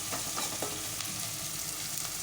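Onions frying in a pan of Telugu taro curry give off a steady, close hiss of sizzling oil that runs evenly throughout, with faint scraping, and no voices.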